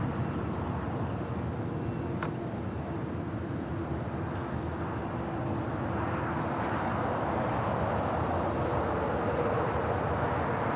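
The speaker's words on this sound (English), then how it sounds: "Another United Dreamliner touching down on the north side" A United Boeing 787 Dreamliner airliner touches down on the north side runway at LAX, a loud, steady jet roar that holds without a break, with no talk.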